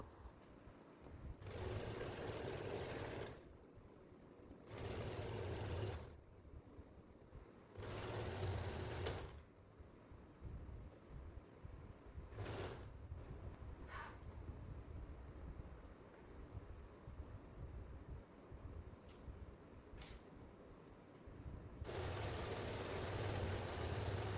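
A sewing machine stitches a folded waistband in a home tailoring lesson, running in several rapid mechanical bursts separated by short pauses, with quieter rattling between runs and a final long stretch of stitching.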